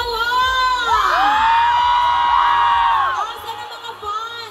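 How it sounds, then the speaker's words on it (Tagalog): A dense crowd of fans at a mall concert at Market Market screams and cheers loudly, with shrill whoops rising and falling for several seconds before easing off. "Hindi ko marinig ang hiyawan!"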